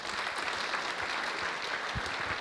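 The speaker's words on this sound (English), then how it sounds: "everybody, please give him a round of applause and welcome him to the stage" An audience at a statistics conference applauds as a speaker is welcomed to the stage, a steady, dense wash of clapping from a crowd that holds even throughout.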